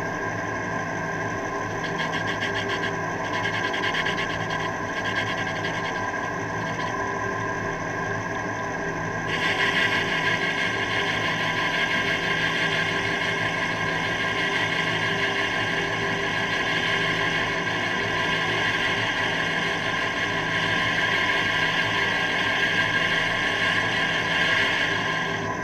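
Steady mechanical drone of a lathe running a slow finishing pass on a crank, a continuous even hum with a brighter high whine shifting partway through, no voices.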